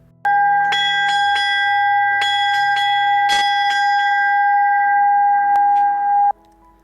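A rope-pulled bell rung repeatedly by an elderly woman gives a steady ringing tone with several sharper strikes scattered through it. It is loud and close, with no voices.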